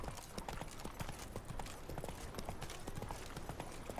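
Hooves of Geralt's horse Roach in The Witcher 3: Wild Hunt, a steady brisk clip-clop rhythm of repeated hoof strikes, close and moderately loud, running throughout with no other sound over it.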